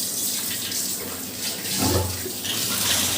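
Cooking pots that have been scrubbed are being rinsed under a running kitchen tap, with a steady stream of water splashing into the sink. The sound is close and continuous and briefly swells louder near the middle.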